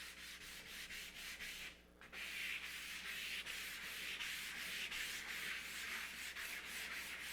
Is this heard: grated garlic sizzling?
no